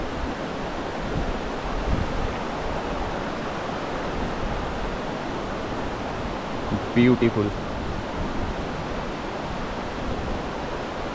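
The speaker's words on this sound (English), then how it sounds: "There is the waterfall and this is the river." A steady rush of flowing water from a waterfall and river in Kalagarh Tiger Reserve, Uttarakhand, fills the scene, broad and constant, with a brief spoken word partway through.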